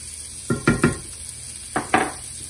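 Two garlic cloves dropped into a hot skillet make a few close clinks and brief sizzling bursts in two short clusters over a low background hum, with no talking.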